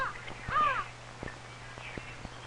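Crows cawing outdoors, a couple of harsh calls rising around the middle, moderately near, over a steady low hum with scattered clicks and no talk.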